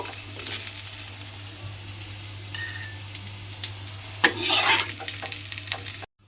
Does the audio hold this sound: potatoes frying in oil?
yes